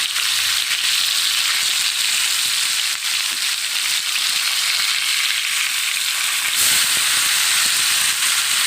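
Masala-coated fish frying in a pan, a steady close sizzle and hiss of hot oil running throughout, slightly brighter near the end, with no talking.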